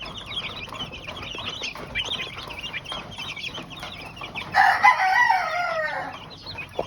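Chickens cluck and a rooster crows at a poultry farm hit by monsoon rains, steady overlapping calls throughout with a louder, nearer burst of crowing and squawking near the end.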